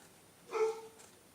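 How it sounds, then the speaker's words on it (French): A single muffled dog bark sounds at a distance indoors, short and fairly faint against quiet room noise. "J'ai le chien qui aboie."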